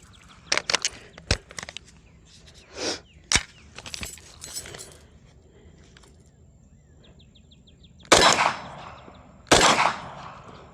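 A CZ Scorpion EVO 3 Micro fires outdoors in sharp single shots and short bursts, loud and close, separated by quiet gaps with faint bird calls and metallic clinks.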